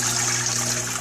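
Water drains down through a thick flexing aquarium filter pipe onto a Blue Bonnet filter pad, a loud, steady rushing gush with a low hum beneath it, continuous and close.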